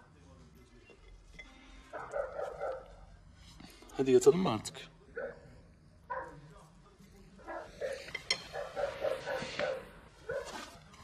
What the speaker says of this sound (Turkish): Bu köpek de artık insanları rahatsız edecek